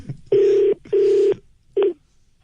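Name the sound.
telephone ringing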